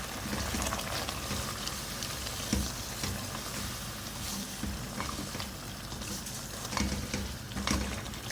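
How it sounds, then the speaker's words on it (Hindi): Beef with coriander powder and spices frying and being stir-fried in oil in a pot for beef korma karahi, a dense, steady sizzle with scraping stirs and occasional louder clanks throughout, no voices. "भूनेंगे इनको।"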